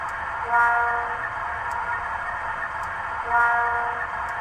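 A Zimo sound decoder in a ROCO HO-scale M62 Soviet diesel locomotive model plays a steady engine drone with two swelling horn-like blasts, each about a second long, set roughly three seconds apart. No one speaks.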